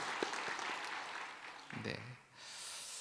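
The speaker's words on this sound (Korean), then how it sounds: "우리 귀한 찬양으로 또 은혜 주신 우리 또 찬양대에도 박수로 격려하도록 하겠습니다" Congregation in a church worship service clapping for the choir, a quieter round of applause that thins out partway, with a voice and a brief stir of sound intruding before the clapping swells again.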